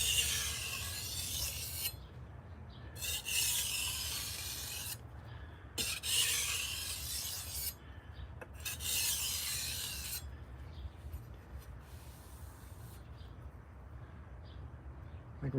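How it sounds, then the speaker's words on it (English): Knife edge drawn in quick burr-removal passes across a wet sharpening stone with slurry, a series of rasping strokes in bursts of about two seconds that alternate with quieter gaps, close by over a steady low background hum. "We'll do a couple of quick burr removal passes just to make sure."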